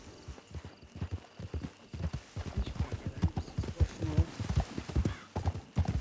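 Horse hooves clip-clop steadily at a riding pace in the Western video game Red Dead Redemption 2, rhythmic and close, with an occasional faint whinny and no talk over them.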